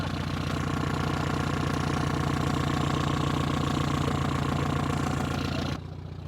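An abandoned 1973 Toyota Hilux engine runs with a loud, steady, rough idle and rhythmic knock, then cuts out sharply near the end.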